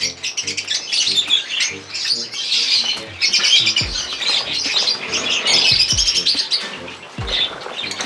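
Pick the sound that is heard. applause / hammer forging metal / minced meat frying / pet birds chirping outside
pet birds chirping outside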